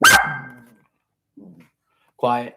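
A pet dog barks sharply once, close and loud, then gives a short low grumble, with a person briefly speaking and another bark-like vocal near the end in a quiet indoor room.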